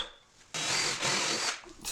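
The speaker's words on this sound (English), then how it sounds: "I'll drill them out, add my screws" A power drill boring screw holes in wood while building a built-in wall desk, one sustained close whirring burst of about a second and a half after a short quiet start.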